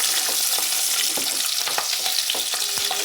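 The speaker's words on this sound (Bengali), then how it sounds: "রসুনটা একটু লাল লাল করে ভেজে নেব।" Garlic sizzles steadily in hot oil for a coriander chutney, a dense, loud crackle with scattered sharper pops and no voices.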